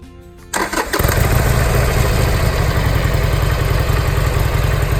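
A 2019 Harley-Davidson Iron 1200 motorcycle, made in Thailand, cranks and fires up, then settles into a loud, close, steady rumbling idle with a throbbing low-end pulse.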